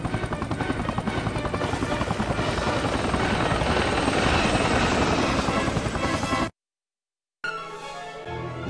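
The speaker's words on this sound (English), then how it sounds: "if you're gonna shoot this helicopter down, you'll need to get really close to it" Helicopter in the Spider-Man 2 PSP video game, a loud steady rotor drone with engine buzz filling most of the clip, cutting to a brief silence before resuming with game sounds.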